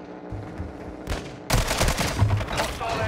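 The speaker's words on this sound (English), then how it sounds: "Oh, I'm getting sniped at." Sniper and other gunfire in the Warzone 2 (Modern Warfare 2) video game, with scattered shots that grow into a loud, dense burst of fire in the second half.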